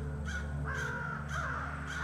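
Crows in The Night of the Rabbit caw in three spaced bursts over a steady low ambient hum, fairly faint and without speech.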